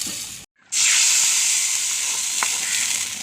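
A loud sizzle erupts as fried tempering with curry leaves and chili is poured into fish curry, following a brief silent gap, then a sustained hissing fry that slowly fades with a small clink near the end.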